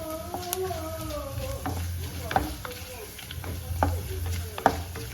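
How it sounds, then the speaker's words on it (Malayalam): Cumin seeds crackle and pop in hot oil for a lentil curry, with scattered sharp snaps over a low sizzle and some scraping of a spoon in the pan. "ചെറിയ ജീരകം ഒന്ന് പൊട്ടിക്കണം"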